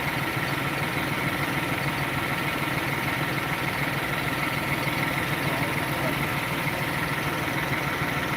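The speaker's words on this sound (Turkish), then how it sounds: "Evin önünü açmak için traktörle çıktık." A tractor engine idles steadily in a village in Şavşat, Artvin, Turkey, a low continuous rumble with a faint vibrating hum, unchanging throughout with no other sounds.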